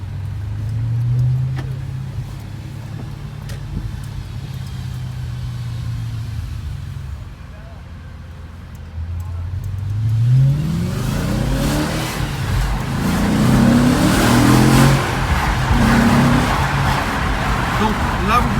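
A sports car engine, an Audi RS4 or a McLaren, rumbles at a low idle, dips briefly, then revs up hard in rising and falling sweeps with a deep, muffled growl, up close and loud.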